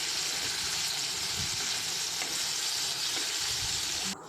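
Okra frying in hot oil in a pan gives a steady, close sizzling hiss that holds level throughout, cutting off abruptly near the end, with no talk.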